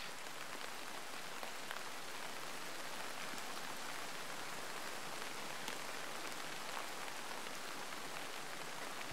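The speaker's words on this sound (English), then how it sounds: "Of course, the rain is back." Steady rain falls in an ArmA 3 battlefield, a dense, even hiss of drops on surfaces that holds at a constant level throughout with no voices.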